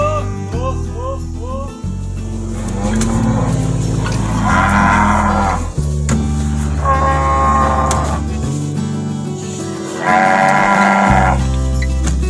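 Cattle lowing in response to a shouted feeding call on a farm in Argentina, several long loud moos near and overlapping, with a deep rumbling backdrop between calls.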